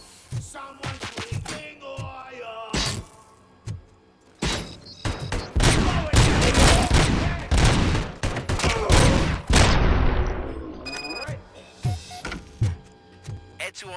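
ED-209 firing in the RoboCop: Rogue City video game, loud bursts of rapid gunfire with heavy impacts. The volleys run in a sustained barrage in the middle and break into scattered shots and mechanical clanks toward the end.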